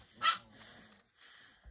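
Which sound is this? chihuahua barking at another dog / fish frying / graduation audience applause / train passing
chihuahua barking at another dog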